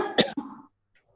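A single sharp cough, close and fairly loud, followed by a softer throat-clearing rasp that fades into near silence.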